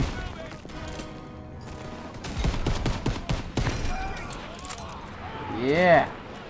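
Battle gunfire from Call of Duty: World War 2 comes as bursts of sharp, loud shots layered under shouting voices, with a rising whine near the end.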